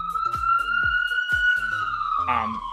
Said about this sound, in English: I have a siren, so if you can't hear me, just bear with me for a second.